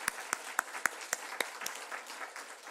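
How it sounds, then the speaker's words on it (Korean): A church congregation clapping together in praise, with several sharp, loud claps at the start that soften into scattered, fading applause. "하나님께 우리 영광의 박수를"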